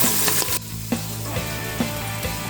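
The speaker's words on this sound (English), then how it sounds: "Add in your onions, carrots, and celery. Saute for about 5 minutes just until softened." Onions, carrots and celery sautéing in a pan for braised short rib mac and cheese. A loud, continuous sizzle is broken by clinks and scrapes of stirring, heard close with no voices.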